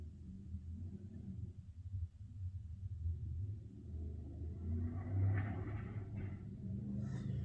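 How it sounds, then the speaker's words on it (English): Low, rumbling engine noise from loud cars passing in a residential neighborhood builds and swells, loud and continuous, with a brief higher-pitched rev near the end. "I live in a neighborhood of people who like noisy cars, apparently."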